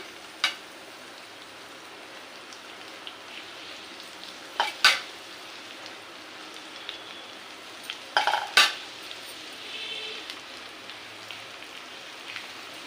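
Amaranth leaves stirred and frying in a pan, a soft steady sizzle with a few sharp scrapes and clatters of the spoon now and then, with no talking.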